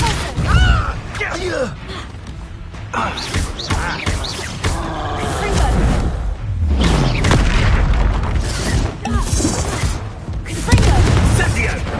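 Spell blasts in a Hogwarts video game go off as deep booms and bursts, several in quick succession, loud and close, mixed with voices talking over the action.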